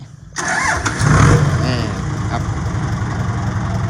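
A motorbike engine fires up abruptly after a short pause and settles straight into a loud, steady, slightly rough idle that holds close by to the end.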